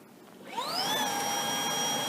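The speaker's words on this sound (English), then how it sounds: "So let's turn the vacuum on." A Shark ION P50 cordless vacuum cleaner switches on in low power mode, its motor whine rising quickly in pitch and then holding a steady, loud, close hum.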